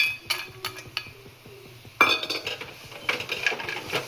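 Roasted cashews and dry coconut stirred into a poha laddu mixture in a metal pan, a spoon clinking and scraping against the pan in a quick irregular rhythm, close and fairly loud, with no voices.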